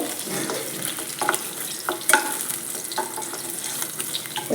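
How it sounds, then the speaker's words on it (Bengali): Whole cumin and ginger-garlic paste sizzle in hot oil in a kadai, a close, steady crackle with scattered pops and a few stirring scrapes. "একই তেলের মধ্যে দিয়ে দেব গোটা জিরে আর দিয়ে দেব অল্প একটু আদা রসুনের পেস্ট"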